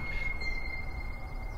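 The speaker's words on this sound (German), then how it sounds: "Ich hoffe, man hört übrigens gerade nicht den Zug im Hintergrund, der hier gerade vorbeifährt." A train rolls past outside a room window, a steady low rumble with a thin high wheel squeal ringing over it, moderately distant and muffled, continuous throughout with no talk.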